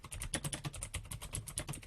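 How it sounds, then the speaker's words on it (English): Rapid clickety-clack typing on a noisy computer keyboard, close and fairly quiet, with quick irregular keystrokes running continuously. "I'm going to make notes with my clickety-clack keyboard"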